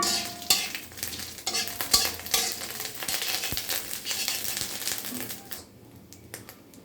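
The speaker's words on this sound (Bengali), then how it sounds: "আদা বাটা দিয়ে দিচ্ছি করে নাড়িয়ে নিচ্ছি" Ginger paste being stirred into a paneer curry in a frying pan, with a steady sizzle and repeated scraping strokes of the spoon that fade to quieter frying near the end.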